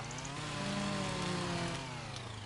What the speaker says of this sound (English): Get the old chainsaw out, put it up here.